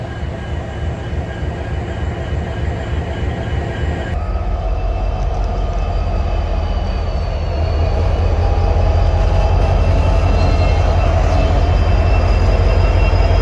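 Norfolk Southern freight train with a big six-axle locomotive on rarely used old rail, its engine drone steady and close and building louder in the second half as it gets ready to pull forward.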